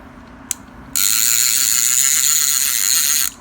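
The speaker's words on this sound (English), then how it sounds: "Really loud clicker." Loud ratcheting buzz from the clicker of a Loki Gear LT series saltwater fishing reel: one sharp click, then a steady, continuous rattle lasting a couple of seconds before stopping abruptly, close up and alone.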